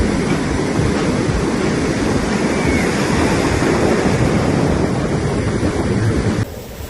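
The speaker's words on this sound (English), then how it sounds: "see these waves right here? That's almost rideable to me." Small ocean waves breaking on a beach where people bodyboard, a loud continuous wash of surf with steady broadband roar, close and unbroken, with no voices.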